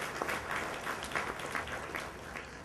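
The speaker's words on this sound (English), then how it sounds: "Let's give the EDC staff a round of applause putting this together." Applause from an audience at a trade office gala, a dense steady wash of many hands clapping at a distance, continuous throughout with no voices rising above it.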